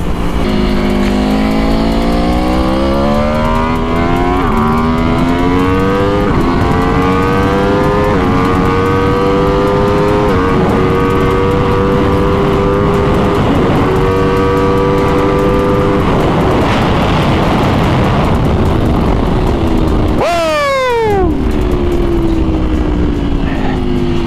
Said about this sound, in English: first session of the day on Johnny's base model 2022 Aprilia RSV4 1100.